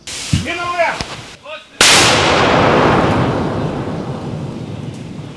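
Whistling tones come first, then a single heavy boom erupts from a mortar firing at a frontline combat position, and a long rumbling roar slowly fades away.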